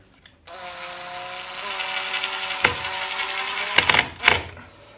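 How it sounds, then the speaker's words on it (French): A power screwdriver drives 3 x 25 mm screws, a steady whirring motor of a few seconds that ends in a couple of short bursts and clicks at close range. "Et je les visse."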